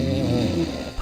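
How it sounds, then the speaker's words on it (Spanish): A person snores loudly and close, one long rough rasping breath filling the whole moment with no talk. "¿Roncas o alguien en tu familia lo hace?"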